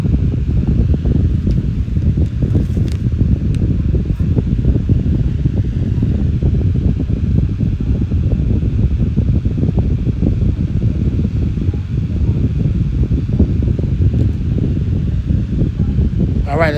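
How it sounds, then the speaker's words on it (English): A 9-inch high velocity fan with plastic blades runs at speed close by, producing a steady, loud whooshing drone with a rustling flutter that stays constant throughout, and someone speaks briefly over it. "This is a very powerful little 9-inch, especially for a fan with plastic blades like that and pin."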